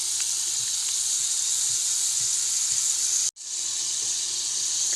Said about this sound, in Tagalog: Gigisa natin sa toyo.